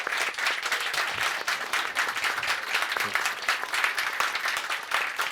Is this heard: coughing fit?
no